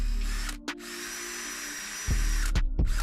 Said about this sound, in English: drill it at a slight angle